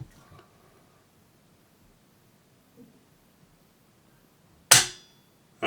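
Jard J68 bullpup rifle being charged and dry-fired: a few faint quiet clicks, then one sharp, loud metallic snap of the action, followed by another short click at the very end.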